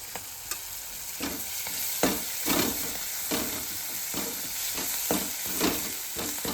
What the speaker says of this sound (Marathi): अशी चांगली फोडणी देऊन घ्यायची वर डाळीला